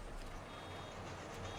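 Faint, steady vehicle reversing beeps from farm machinery in a farming video game, repeating under a low engine rumble and distant hiss, quiet and without talk.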